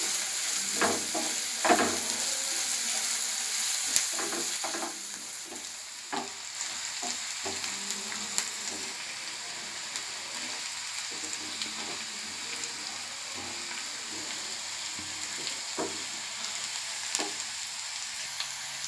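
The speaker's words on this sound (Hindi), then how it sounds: "प्याज सहित अदा रसुण छेचा को मध्य दे दबा। एबे सब ब्राउन कलर होला पर्यंत भाजी नवा।" Onion with a ginger and garlic paste frying in a pan, a constant close sizzle broken by repeated scraping stirs at an irregular pace, with no talking.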